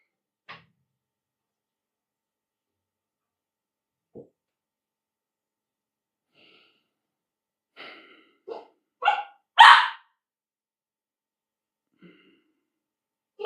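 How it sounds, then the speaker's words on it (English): A dog barking at cats indoors: scattered soft huffs early on, then a quick run of three or four short, close barks and breathy chuffs, followed by quiet. "He's barking at the cats now."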